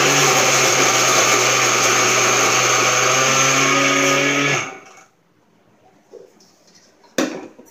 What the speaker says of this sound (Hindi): और इसको पीस लूंगी।